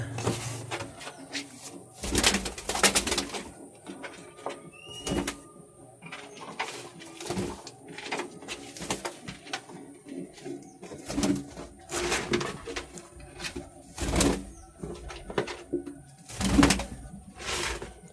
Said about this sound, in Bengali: এ দেখো দাদা সব পায়রা চলে এসছে